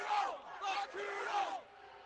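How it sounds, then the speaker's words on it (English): Crowd of protesters in Bolton, Ontario screaming and yelling in loud, ragged bursts, voices overlapping near and loud for about a second and a half before dropping off. "A crowd screaming and making obscene gestures."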